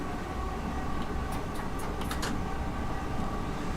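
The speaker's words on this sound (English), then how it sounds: "it's a very nice train to drive, the 465" A Class 465 electric train running in Train Sim World 3 on Southeastern high speed lines, a steady loud rolling rumble and broadband rush from the cab with open window, a few short high tonal squeals over it.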